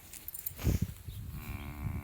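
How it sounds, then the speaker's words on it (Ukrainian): Cow lowing once from close by on a farm, a short deep moo rising briefly above a quiet background with faint rustling. "Не мукай."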